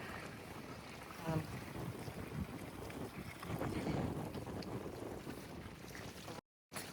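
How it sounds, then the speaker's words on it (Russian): Gusty outdoor wind buffets the microphone in Ukhta, Komi Republic, a low rumbling roar that swells and eases, rising strongest in the middle before a brief dropout. "Его просто порывом ветра сносит."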